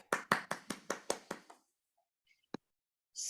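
Around seven quick, sharp hand claps ring out in an even rhythm at an online meeting, then stop, followed by near silence, one isolated tap and a faint burst of noise at the end.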